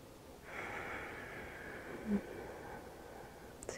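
Slow, soft breath in a quiet room during a yoga session, a single long drawn airflow lasting a few seconds with one brief louder puff near the middle, faint and close.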